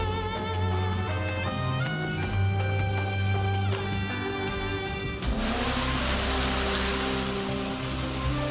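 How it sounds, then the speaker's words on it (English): Rain falls steadily in the Goddess of Victory: NIKKE video game, a dense hiss that swells and thickens partway through, mixed under a loud layer of game music. "It's raining."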